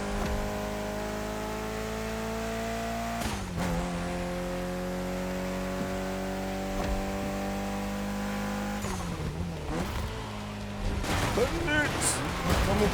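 A Mitsubishi Lancer Evolution driven in The Crew Motorfest gives a loud, sustained engine drone whose pitch shifts as it changes gear, with rougher revving near the end and a voice talking over it.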